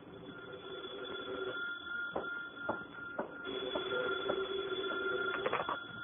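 Old-fashioned telephone bell ringing as a radio drama effect, several sharp repeated rings over a muffled, narrow-band background, fairly faint and with no voices.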